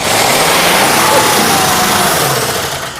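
A forgotten 1967 Mercury Commuter Wagon, unrun for 40 years, cranks and revs hard, a loud, dense, steady engine roar sustained throughout that eases slightly toward the end.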